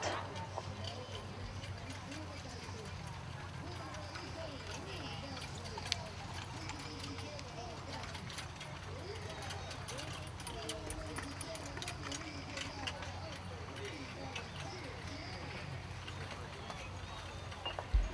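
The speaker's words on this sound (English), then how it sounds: "And drivers, please extend your horses. Please extend the trot." Harness horses trotting at an open horse show at a field-days event, a steady, fairly faint clip-clop of many hooves continuing throughout, heard with crowd and arena noise and an announcer's voice over a public address.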